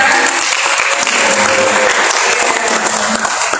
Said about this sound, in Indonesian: Oke, tepuk tangan bersama ya.